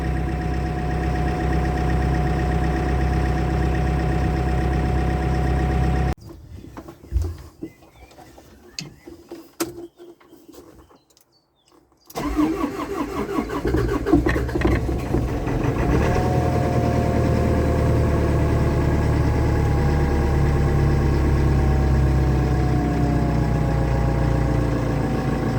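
An old CAT diesel engine idling steadily after repair, a loud, close, low rumble with a short drop in level partway through before the same even idle returns.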